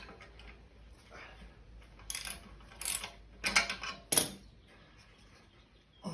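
Ratchet work on the exhaust bracket bolts of a 2018 Harley Sportster Iron 883, heard as several short clicking bursts close by, with brief louder metallic clacks in between and no talking.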